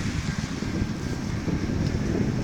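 Blustery wind buffets the microphone in a steady low rumble throughout, on a cold, rainy, gloomy day in Beek.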